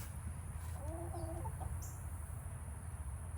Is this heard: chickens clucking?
yes